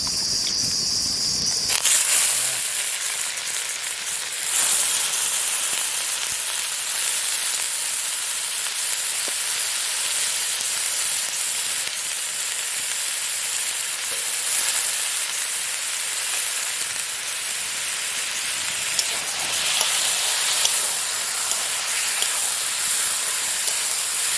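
Meat added to a pan of spice masala of ginger-garlic paste, Kashmiri chilli, garam masala, turmeric, coriander and cumin sizzles with a loud, continuous hissing roar that holds steady for a long stretch, cooked outdoors at a picnic.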